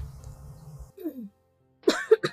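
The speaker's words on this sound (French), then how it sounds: "Pourquoi je tousse beaucoup?" A person gives a few short harsh coughs up close near the end, after a stretch of quiet talking and a brief pause.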